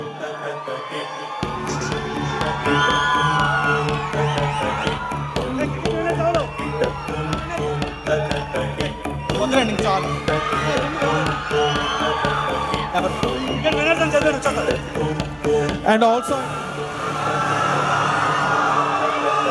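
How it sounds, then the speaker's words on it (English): Student crowd at a university cultural fest cheering and whooping, with shouts and some clapping over a loud rhythmic music bed, near and energetic, with a voice speaking briefly. "So shall we give a big round of applause for the wonderful speech that we heard today?"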